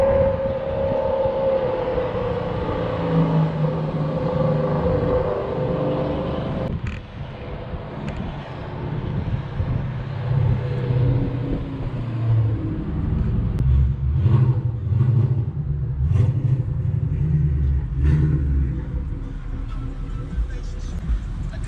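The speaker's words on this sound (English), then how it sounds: "It actually does not have a muffler, so it's a straight through design, pretty much from the catalytic converter back." A 2017 Ford Mustang 5.0 running full bolt-ons on E85, with a straight-through exhaust and no muffler from the catalytic converter back, gives a steady deep rumble throughout with a few rising revs in the second half.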